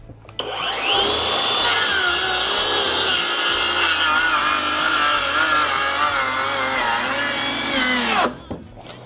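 SKIL 3571XP cordless circular saw running on a 2.5 Ah battery and ripping along wood, a loud, continuous whining cut that spins up, holds steady for several seconds under load, then winds down.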